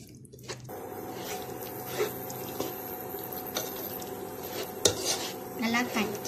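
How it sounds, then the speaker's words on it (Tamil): A spoon stirring ground cashew paste into fish biryani gravy in a pot, with soft scraping and clinking against the metal over a faint simmer, close and fairly quiet. "கிண்டிக்கோங்க"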